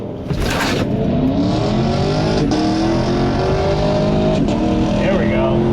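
A Tesla Model 3 Performance drag racing a modified Camaro: a loud rising engine whine and acceleration roar climbs steadily in pitch, with a person talking over it near the start.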